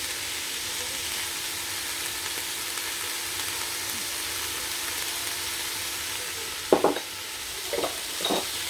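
Spring roll vegetables with herbs and chili sizzle steadily in a hot pan, a continuous frying hiss near the mic, with a few sharp scraping stirs near the end and no talking.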